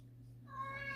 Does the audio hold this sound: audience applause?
no